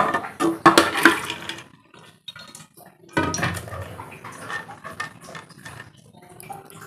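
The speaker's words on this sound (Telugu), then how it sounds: "ఇవి మొత్తము ఈ కుక్కర్లో వేసేసుకుందాము" Soaked maize kernels poured into a pressure cooker, heard as bursts of rattling, clattering grains against metal with wet splashy sounds, a first pour, a brief quiet, then a second longer pour.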